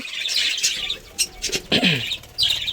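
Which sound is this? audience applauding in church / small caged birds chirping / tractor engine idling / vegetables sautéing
small caged birds chirping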